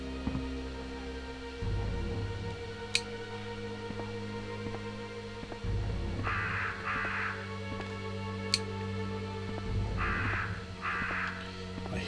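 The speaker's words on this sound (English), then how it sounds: "Hear crows." Crows cawing in a PlayStation zombie survival game, two short paired bursts of calls standing out over a steady, droning in-game ambience and low music hum.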